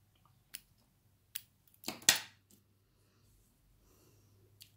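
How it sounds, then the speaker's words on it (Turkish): A few sharp snips of scissors cutting crochet yarn, with one louder close cut in the middle and quiet pauses between the short strokes. "İpimi kesiyorum."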